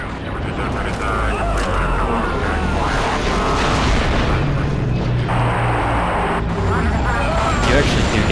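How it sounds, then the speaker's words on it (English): A detonated charge in a video game erupts into a loud, sustained rumbling blast with heavy booming and roaring layers, like artillery or aircraft, filling the whole stretch without letting up. "The charge is set and ready to detonate."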